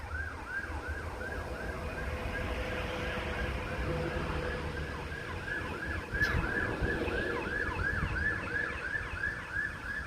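A police car siren wails, cycling rapidly up and down at a distance as it passes, rising slightly in loudness over steady traffic noise and outdoor rumble.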